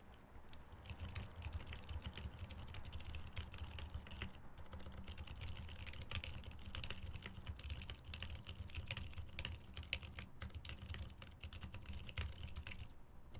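Typing on a GAF 60 mechanical keyboard fitted with silent switches, its hollow open-bottom case adding a slight resonance. Dense, rapid, muted keystrokes run steadily throughout at moderate volume with no talking.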